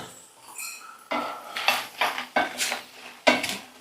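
Dried red chillies roasting in a pan are stirred, giving close, sharp scraping and clinking of a spoon against metal in irregular strokes after a quiet start, with no talk.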